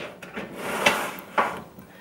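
Second drawer of a home office desk slid open, two short wooden knocks and a brief scraping rub, close and fairly loud in a quiet room.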